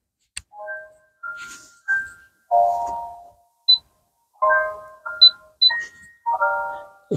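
A baby swing's built-in speaker plays a simple electronic tune of separate chiming notes with short pauses between them, close and clear with no voices.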